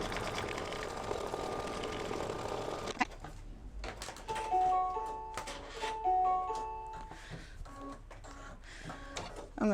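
Embroidery sewing machine stitching a batting placement outline for a mug rug, starting after an earlier run with a fast mechanical chatter broken by short pauses and repeated tonal beeps.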